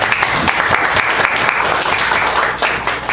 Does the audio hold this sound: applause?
yes